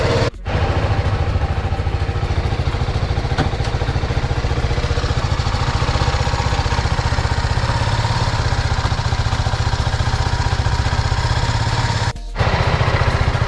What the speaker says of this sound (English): Now I'm going to start the bike and putting it on the first gear.